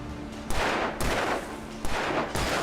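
Four sharp gunshots from the video game Alan Wake, spaced unevenly about half a second to a second apart, loud and close over a steady background noise.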